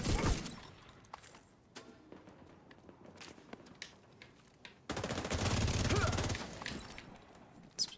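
Gunfire in The Division 2 game: scattered sharp shots and footsteps early, then a dense burst of automatic fire for a couple of seconds, ending with a final loud crack.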